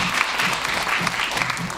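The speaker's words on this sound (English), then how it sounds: "Please give her a round of applause." Warm applause from an audience at an awards show, many hands clapping at once in a continuous, moderately loud wash.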